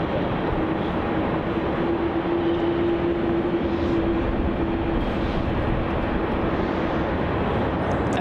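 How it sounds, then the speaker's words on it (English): A Singapore Airlines A350 taxiing toward runway 34 at Melbourne Airport, a steady broad jet engine rumble and whine holding constant throughout, fairly loud and continuous with a faint sustained tone, no voices. "that Singapore A350 is taxiing up towards the end of runway 34 now"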